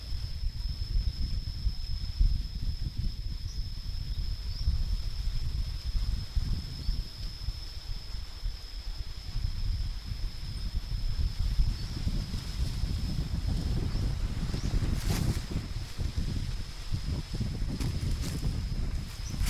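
Steady wind rushes and buffets across the microphone outdoors, a continuous low roar with no pauses.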